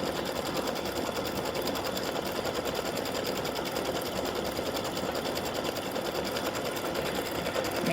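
An embroidery machine stitches out a gnome applique, a continuous fast, even mechanical buzz and rattle running steadily at close range for the whole stretch.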